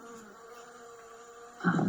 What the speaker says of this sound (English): The bee sound.